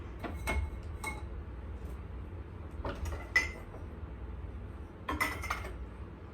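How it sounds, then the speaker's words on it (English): Metal kitchen utensils clink and clatter as a strainer is pulled out in a cluttered home kitchen during elderberry syrup making; a few sharp, close knocks spaced apart over a low room hum, with no talking. "I'm getting out my strainer just in case."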